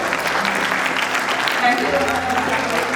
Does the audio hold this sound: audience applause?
yes